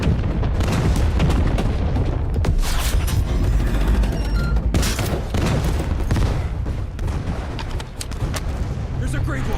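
Video game gunfire, dense bursts of shots and booming blasts in rapid irregular succession, loud and continuous throughout, with a voice talking over the din.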